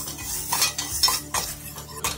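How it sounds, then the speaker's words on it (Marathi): Chopped onion and green chillies being sautéed in a pan, a Goan hilsa fish curry in the making: repeated scraping stirring strokes with utensil clinks against the pan over a low steady sizzle, close and moderately loud, with no talk. "1 बारीक चिरलेला कांदा आणि 3 ते 4 हिरव्या मिरच्यांचे तुकडे परतून घेऊया"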